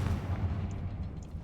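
A Confringo fire spell bursting in Hogwarts Legacy, a deep rumbling explosion with a heavy low boom that holds steady and fades slowly over a second and a half, loud and alone with no voices.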